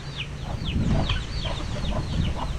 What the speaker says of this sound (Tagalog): nagkakalkal ng mga manok yan.